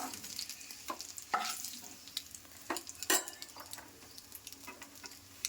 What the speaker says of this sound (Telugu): ఈ విధంగా ఎగ్స్ని అయితే మంచి కలర్ వచ్చేలాగా ఫ్రై చేసి